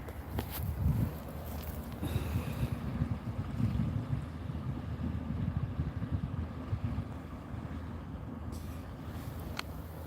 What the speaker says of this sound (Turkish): sizi dalgaların sesiyle baş başa bırakıyorum.